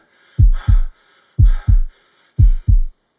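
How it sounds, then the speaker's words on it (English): A heartbeat sound effect in a dramatic reading of a horror story: three deep, muffled lub-dub double thumps at a steady slow pace, loud and close with no voice over them. "the heart beat on with a muffled sound"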